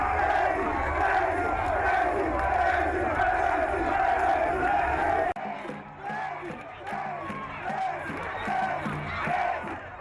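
A large crowd cheers and shouts steadily during a president's walkabout among people at a public ceremony, a dense roar of voices with whoops, loud throughout and dipping slightly partway.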